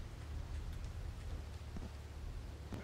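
Steady rain hisses in Grand Theft Auto 3 during a drive, a dense, continuous wash of falling water with low rumbling underneath, heard without any voices.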